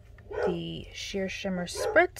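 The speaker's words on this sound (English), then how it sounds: "I'm sorry about the dogs barking again." Dogs bark a few times in the background of a home card-making session, the barks mixed under a person talking nearby.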